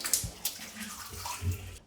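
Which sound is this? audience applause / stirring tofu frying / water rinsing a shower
water rinsing a shower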